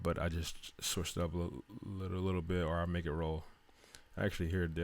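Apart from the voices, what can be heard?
No everyday noises stand out.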